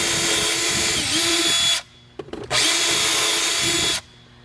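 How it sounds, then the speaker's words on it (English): A power drill whining as it bores a hole into the dashboard of a 2004-2008 Toyota Solara, two loud sustained runs separated by a brief pause with small knocks, close by. "we're going to drill our hole"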